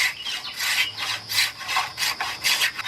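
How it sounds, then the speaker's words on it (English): A spoke shave pared along a wooden chair spindle, giving repeated rasping strokes in a steady back-and-forth rhythm, close and moderately loud with no voices. "Now this spoke shave cutting nice and clean on this spindle"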